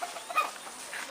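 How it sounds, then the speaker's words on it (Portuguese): Chickens clucking faintly at a distance, a few soft short calls over quiet outdoor background. "As galinhas que a minha avó comprou."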